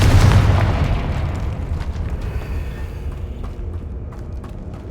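The Confringo blasting spell explodes in the video game Hogwarts Legacy: a loud, close boom that decays into a long rumbling tail, with faint crackles as it fades.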